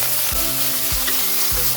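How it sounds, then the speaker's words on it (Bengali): Four medium onions, finely chopped, sizzle steadily in hot oil in a pan for mushroom curry, with three soft scraping stirs of a spatula at regular intervals across the clip, close and continuous. "এবার হালকা করে 3-4 মিনিট পেঁয়াজটা ভেজে নেব।"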